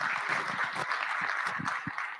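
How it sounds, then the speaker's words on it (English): Conference audience applauding a speaker walking onto a stage, a steady round of clapping from many hands at moderate level, with individual claps standing out. "Round of applause for her."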